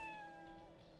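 A cat meows once in the video game TimeSplitters Future Perfect, a short, faint, slightly drawn-out cry with no speech over it.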